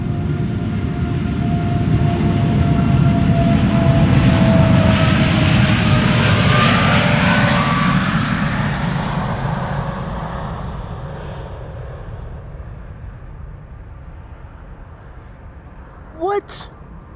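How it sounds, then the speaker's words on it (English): A Boeing 747 takes off from the Polderbaan runway at Amsterdam Schiphol, its jet engines roaring loud and broad, swelling over the first seconds and then slowly fading into the distance, with a few short bumps of handling noise near the end. "We have a 747 coming this way."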